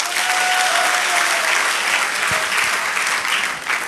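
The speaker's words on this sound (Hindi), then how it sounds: "जोरदार तालियां होना चाहिए दोस्त" An audience at a Safe Shop business seminar bursts into loud, dense applause, a continuous roar of many hands clapping throughout.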